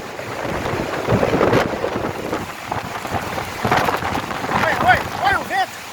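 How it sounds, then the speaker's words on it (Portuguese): Strong wind gusts roar and buffet the microphone outdoors as rain falls on seeds left out in the weather, the noise rising and falling in surges while people exclaim over it. "Olha o vento."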